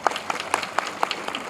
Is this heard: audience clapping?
yes